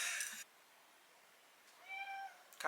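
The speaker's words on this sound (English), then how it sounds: "Cat's arrived" A house cat gives a single clear, tonal meow after a brief quiet pause, close by in a calm indoor room, with another faint sound before it.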